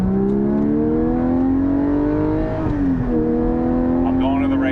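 A Porsche 718 GT4 with a Soul Performance race exhaust revs loudly nearby, its exhaust note rising in pitch, easing off, then climbing again.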